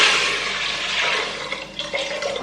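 A steady, close rush of water pours continuously into a cooking pot of khichdi (dal and rice) for a couple of seconds, with no voices.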